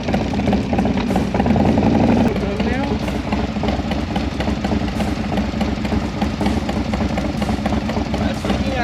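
A Harley-Davidson motorcycle with a 131-cubic-inch engine idles with a low, lumpy rumble, briefly louder near the start, continuing steadily with occasional clicks and background noise.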